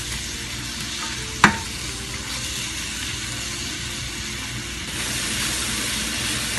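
Onion, garlic and chiles sizzle for shrimp fajitas in a pan over medium-high heat, a loud steady frying hiss with one sharp utensil clink early on.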